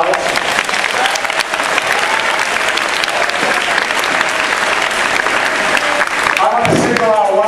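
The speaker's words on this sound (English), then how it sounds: "Let's give them a round of applause" Loud, sustained audience applause for retired teachers at a school's 50th anniversary celebration, a dense steady wash of clapping from a large crowd, with a voice starting up near the end.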